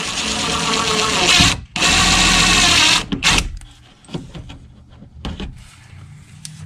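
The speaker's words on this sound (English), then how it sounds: "Okay, so I've grabbed the 3/16 drill bit." A power drill with a 3/16 bit whines at high speed in two bursts through a plastic housing on a Nissan NV200 door panel, briefly pausing, then the motor cuts out and light clicks and handling knocks follow.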